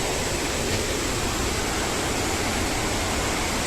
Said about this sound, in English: Here I will take you to the first hand view of the waterfall, which is gushing from several feet high